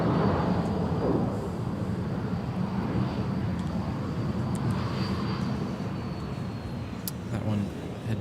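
A Sun Country airliner at Minneapolis–St. Paul Airport gives off a steady, moderately distant jet engine roar and whine, heard under talk and fairly even throughout.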